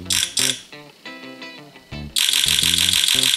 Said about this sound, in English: That's a burst mode, and it shoots like an AK-47.